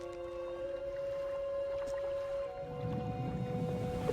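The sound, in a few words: narwhal calling under the ice in video game Dredge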